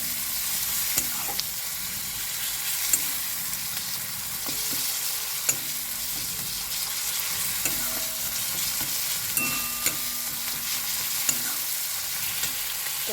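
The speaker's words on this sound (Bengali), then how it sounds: "এবার পেঁয়াজ রসুন আদা টমেটো সব কটাকে একটু ভালো করে কষে নিচ্ছি।" Onion, garlic, ginger and tomato sizzle steadily in hot oil for kima chana, with repeated scrapes and clicks of a spoon stirring the pan throughout, close and continuous with no voices.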